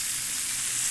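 Shrimp frying in a pan, a dense, loud, continuous sizzle with no voices, steady across the short stretch.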